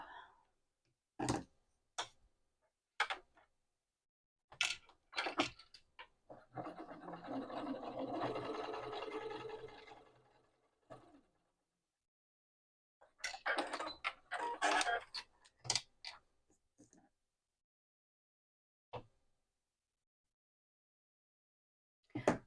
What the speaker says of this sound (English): what I'm going to do is top stitch along this top edge at a 1/8 inch seam allowance